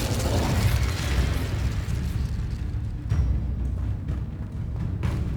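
A fire spell cast in Hogwarts Legacy, heard as a loud, sustained roaring burst with crackling pops and rumbling low end throughout, briefly swelling again midway.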